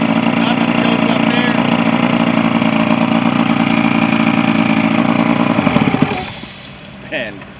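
A Marine 60 outboard motor, hard to start and low on power, idles roughly on only its bottom two cylinders, a loud steady uneven drone that cuts out abruptly near the end, leaving a brief clatter.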